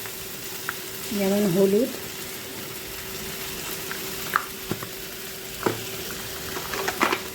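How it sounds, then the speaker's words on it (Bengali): Ginger and dry spices such as turmeric fry in hot oil in a pan, giving a soft steady sizzle with small spatula taps, while someone speaks briefly over it. "আদাটা ভাজা ভাজা হয়ে গেছে"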